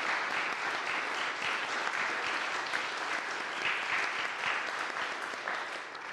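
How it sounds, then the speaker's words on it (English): Congregation in a church Sunday worship service applauds the bell choir, a full, sustained round of clapping that stays even and close before easing slightly at the end. "if we could give a warm Bayshore round of applause for our Bayshore Bells"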